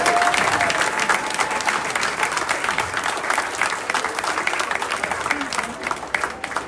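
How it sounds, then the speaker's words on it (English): A graduation ceremony crowd gives a loud round of applause for the graduates, with thick, continuous clapping and a few voices rising within it. "Let's give them a round of applause."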